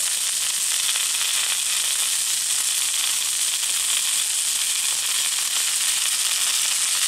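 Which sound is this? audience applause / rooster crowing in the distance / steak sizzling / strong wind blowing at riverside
steak sizzling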